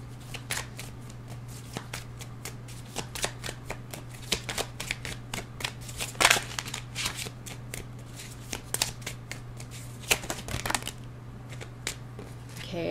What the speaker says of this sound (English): I'm being guided to shuffle again.